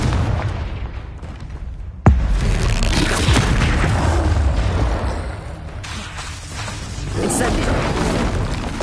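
Confringo explosive spell in the Hogwarts Legacy wizarding game, cast in a busy fight: a sudden loud crack at about two seconds sits over continuous rumbling combat noise, with more bursts and swells later and a voice heard in places.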